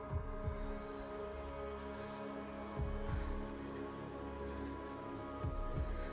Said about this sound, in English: The heartbeat of the lost ones.